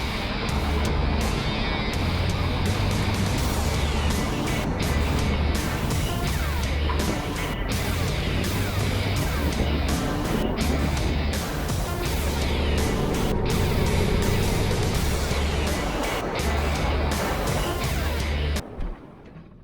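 A car driving on a road trip, with steady engine and road rumble and wind noise filling the whole stretch, loud and continuous until it drops away near the end.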